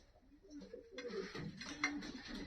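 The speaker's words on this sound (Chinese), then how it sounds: "这些鸽子其实很多都特别好" Pigeons kept in a flat in Urumqi during a lockdown give soft, low cooing calls, faint and close by, repeating over a quiet background.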